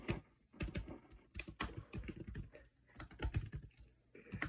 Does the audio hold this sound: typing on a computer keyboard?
yes